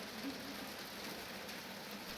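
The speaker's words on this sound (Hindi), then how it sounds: "यहाँ पे मौसम सख्त ख़राब है और शदीद किस्म की बारिश हो रही है" Heavy rain falls in Kashmir as a faint, steady wash of hissing patter, continuous and even throughout with no voices over it.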